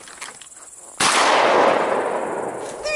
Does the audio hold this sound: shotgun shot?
yes